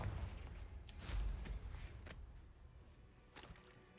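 A Confringo blasting spell goes off in Hogwarts Legacy, a sharp whip-like crack followed by a booming burst and rumble, then a few fainter cracks trailing away, with no talk over it.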